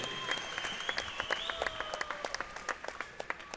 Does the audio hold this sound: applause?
yes